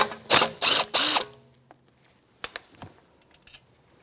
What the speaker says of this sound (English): Now with the 10mm socket, I reach in there and extract that bolt.